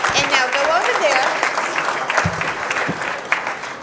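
Warm applause at a school board workshop meeting for state and national Spanish spelling bee competitors. The dense clapping fades slightly toward the end, with a few voices calling out above it.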